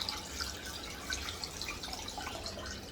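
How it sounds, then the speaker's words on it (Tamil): Water trickles and drips faintly and steadily into a vessel of yogurt as buttermilk is made, a soft, continuous splashing with small irregular droplets and no voices. "நல்லா 1 லிட்டர் கிட்ட தண்ணி விட்டுருணும்"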